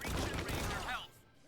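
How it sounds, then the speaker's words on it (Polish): A loud burst of blasts and crashing from a video game explosion in Strike Force Heroes Remastered, a dense roar lasting about a second before dropping to a quieter tail. "Ale eksplozja."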